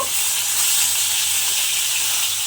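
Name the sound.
fish frying in oil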